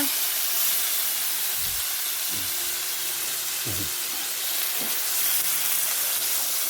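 Pickled mustard greens hit a hot pan with shallots for a home-cooked stir-fry, producing a loud, steady steamy hiss with a few low thumps of tossing and stirring.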